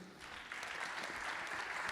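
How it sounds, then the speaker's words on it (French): Audience at a Lyon governance summit claps for a filmmaker being introduced, a soft, fairly distant wash of applause swelling slightly after a brief start. "Je vous demande de l'applaudir."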